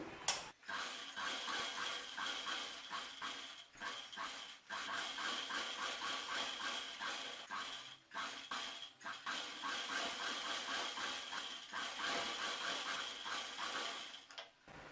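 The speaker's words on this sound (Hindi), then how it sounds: "अब हम इसको सिलाई करेंगे।" A sewing machine stitches a designer kameez, its motor whirring in a steady, loud run that stops briefly a few times before starting again, with a rapid mechanical clatter of needle strokes.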